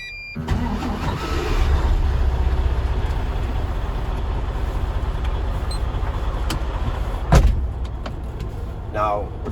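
A truck engine cranks and catches, then settles into a loud, steady mid-pitched idle with a sharp clunk partway through and a brief whine near the end.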